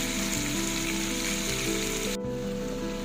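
Shredded cabbage sautéing in a hot pan for a simple Filipino ginisang dish, a steady, dense close sizzle with a faint hum underneath.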